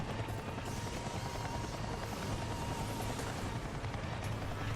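Infected slime chopper helicopter in the Ninja Blade video game, a dense, continuous roar of rotor and engine noise with rumbling bursts, loud and steady throughout with no talk.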